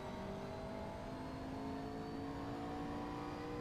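A race car engine in the video game Assetto Corsa hums at a steady, fairly quiet pitch, held evenly throughout with no talk over it.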